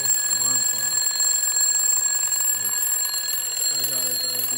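A Peakeep 4-inch twin bell loud alarm clock, an old-school wind-up style clock, rings continuously. The ringing is loud and steady, with a fast metallic clatter that fills the whole stretch without a break.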